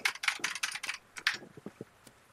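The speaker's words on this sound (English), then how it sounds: "I can't wait for you guys to hear my keyboard just fucking go haywire again" Computer keyboard typing at close range, a quick burst of crisp, irregular key clacks followed by a few softer, scattered presses and one last tap, with no voices.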